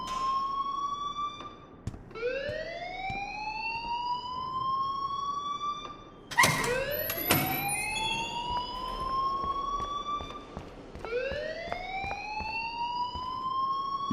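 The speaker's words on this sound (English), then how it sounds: "please turn off that alarm since that's your job" A rising, wailing siren-like alarm blares in the video game Life is Strange. It sweeps up repeatedly in long whooping cycles, loud and continuous, with a burst of sharp clatter partway through.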